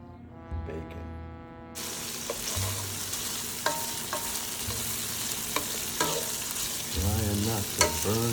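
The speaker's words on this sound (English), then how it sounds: "Trying not to burn the bacon." Bacon sizzles steadily in a frying pan, with occasional clinks and scrapes of stirring over the continuous crackle.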